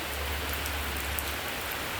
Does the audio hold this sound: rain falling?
yes